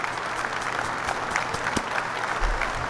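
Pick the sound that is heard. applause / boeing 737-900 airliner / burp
applause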